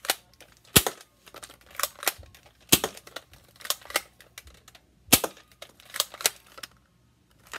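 A Nerf N-Strike toy blaster firing foam darts, a series of sharp, close plastic snaps and clicks spaced irregularly, with quieter mechanical rattles between shots.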